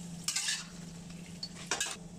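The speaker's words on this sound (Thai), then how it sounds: "น้ำมันเริ่มร้อนแล้วใส่พริกแห้งลงไปก็ทอดๆแบบนี้ไปจนพริกสีเข้ม" Dried chilies frying in oil over low heat in a pan, a faint steady sizzle broken by two brief bursts of stirring and scraping against the pan.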